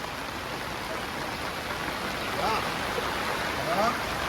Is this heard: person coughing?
no